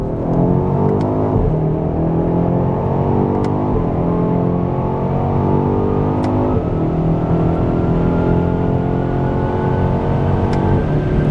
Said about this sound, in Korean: 이 상태에서 직선 구간 가속 성능 테스트를 진행을 해 보도록 하겠습니다